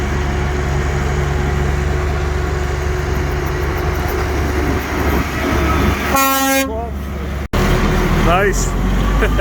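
Air horns on a farm transport vehicle blare one brief, loud, tonal blast over a constant heavy engine rumble, with a fainter horn-like tone following shortly after.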